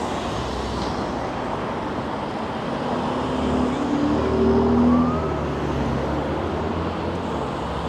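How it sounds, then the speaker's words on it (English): Steady road traffic on Rosedale Valley Road in Toronto, a broad continuous roar of passing cars that swells slightly mid-clip as a vehicle goes by, with no talk over it. "The traffic here is insane."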